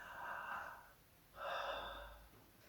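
Slow, deep breathing during a relaxation exercise, two long soft airy breaths in close succession, quiet and unaccompanied by talk.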